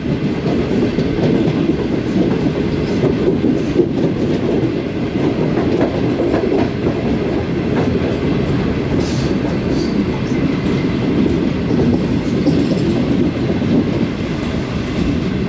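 A Shalimar Express train runs on rails, traveling from Lahore to Khanewal, with a steady loud rumble and rhythmic clickety-clack of wheels heard from inside the carriage throughout.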